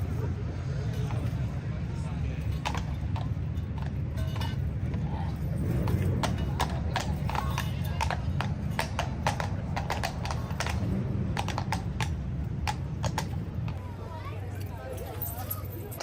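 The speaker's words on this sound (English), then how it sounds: "On these farms, the horses can run freely to relieve stress." Horses of the Royal Guards clatter along with a brisk, steady patter of hoof clip-clops, moderately close, while a voice narrates over them throughout.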